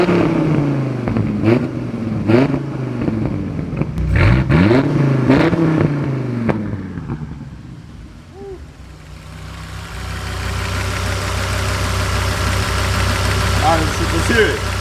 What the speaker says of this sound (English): It's just that ferocious of a V10.